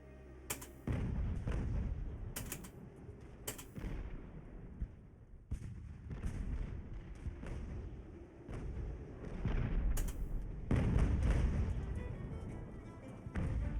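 Broadside cannon fire in Ultimate Admiral: Age of Sail, a naval sailing battle game, with heavy booming shots and thuds, some bursts sharp and close, over a continuous rumbling battle din.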